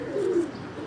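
Pigeons cooing in a short, soft low murmur of a breeding pair kept by a pigeon fancier, the coo swelling briefly near the start and trailing off, close and alone with no talk.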